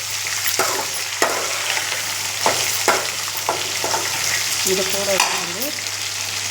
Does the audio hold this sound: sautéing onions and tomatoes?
yes